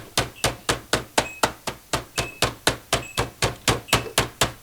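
A meat mallet pounds chicken flat on a board, about sixteen evenly spaced, loud thuds that repeat steadily, each with a short sharp decay.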